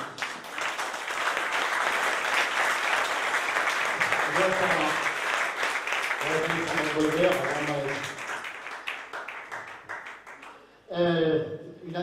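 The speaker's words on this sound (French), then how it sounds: "Merci Sandrine, on peut l'applaudir." A crowd applauds steadily for several seconds, with a voice speaking over the clapping before it fades and talk resumes.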